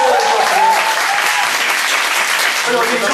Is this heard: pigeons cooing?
no